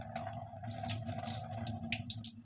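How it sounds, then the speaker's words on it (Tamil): Grains for homemade baby food are rinsed in water, with close splashing and swishing sounds in irregular bursts over a quiet background hum. "3வது தடவை இப்போ அலசிட்ருக்கேன்"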